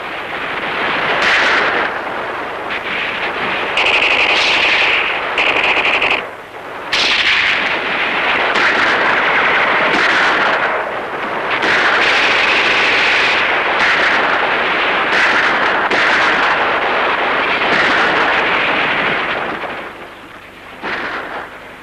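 Battle of the Bulge combat: rifle gunfire and artillery roar in a dense, loud, continuous barrage of booms and cracks, with rumbling blasts layered throughout.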